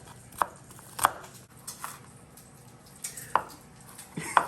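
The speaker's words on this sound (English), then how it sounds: "Gotta love chopping onions." A knife chops shallots on a cutting board in sharp, irregular strikes, about six distinct knocks, close and clear, with faint kitchen background and no talk.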